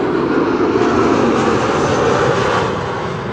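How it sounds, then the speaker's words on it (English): Embraer 190 passenger jet arriving at Amsterdam Schiphol Airport, a loud, steady engine roar with a broad rushing tone that holds level for several seconds, heard from nearby with no voices. "Embraer 190 arriving from Humberside is landing here."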